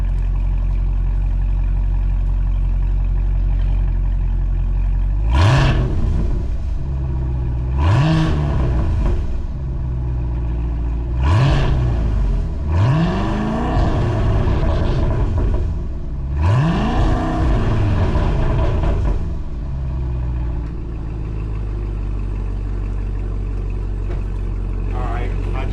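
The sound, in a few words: 2024 Cadillac CT5-V revving with Corsa Xtreme valved cat-back exhaust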